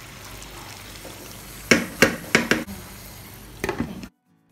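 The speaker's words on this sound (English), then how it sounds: "So we're just adding that into the mix and stirring it." Jollof rice is stirred in a non-stick pan, with a few sharp scraping clacks of a spoon against the pan coming in two short bursts over a quiet kitchen background before an abrupt cut.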